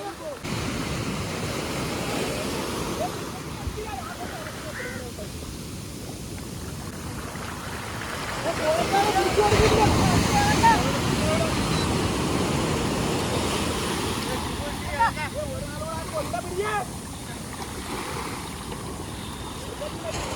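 Sea waves wash and break steadily on a Kerala beach during traditional shore fishing with nets, a continuous broad rush that swells louder midway, with people talking faintly over it.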